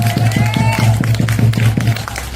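Crowd applause at a union rally calling for negotiations with Hanwha Life, steady rhythmic clapping in unison with a regular beat and a low murmur underneath.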